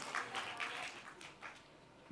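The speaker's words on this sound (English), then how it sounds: "Another round of applause for Mr. Ochinta Sharma." Quiz-final audience applauds a contestant's good answer, a soft, fairly distant patter of clapping that thins out toward the end.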